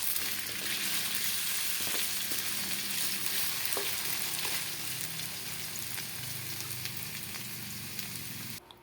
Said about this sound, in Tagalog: magigisa natin yung bawang sibuyas